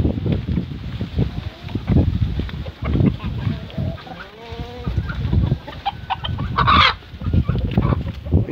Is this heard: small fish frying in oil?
no